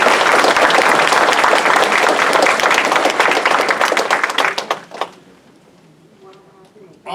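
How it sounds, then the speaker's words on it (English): A hall audience at a scholarship award ceremony at George Mason University claps loudly and thickly for several seconds, then the applause thins into scattered claps and fades out. "can we give our host a round of applause?"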